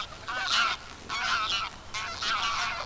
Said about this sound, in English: The Greylag geese are waiting for just the right time to take off.